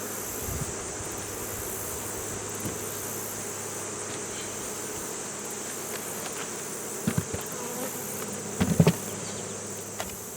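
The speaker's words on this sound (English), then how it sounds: "There's just a lot of bees in this hive" A dense, steady drone of honey bees fills a crowded, tightly packed hive, a continuous close buzz broken by a few soft knocks and bumps near the end.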